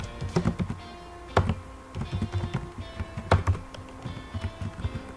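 Keys tapped on a computer keyboard during a Laravel admin template edit, a steady run of close, crisp clicks with two sharper keystrokes standing out, no voices.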